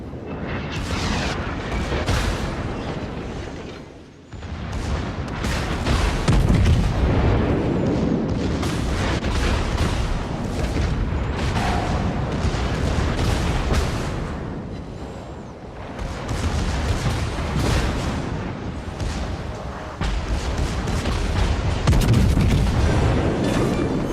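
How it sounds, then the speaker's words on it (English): Naval warship combat in a video game as an enemy battleship is destroyed: a continuous, loud barrage of heavy booming explosions and gunfire, with rolling blasts that dip briefly and then surge again, no voices. "Enemy battleship destroyed."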